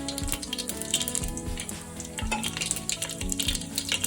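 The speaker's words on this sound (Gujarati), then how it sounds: "હવે આપણું તેલ આવી ગયું છે રાઈ જીરું નાખી દેવાનું છે એમાં" Mustard seeds and cumin crackle and sizzle in hot oil for Gujarati masala rice, with steady frying hiss, scattered popping and a few clinks of a utensil against the pan.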